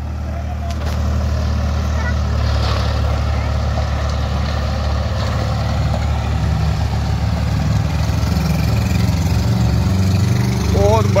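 Ford 3600 tractor running a rotavator in a dusty field, a loud, steady diesel engine drone with churning mechanical rumble throughout, close to the listener.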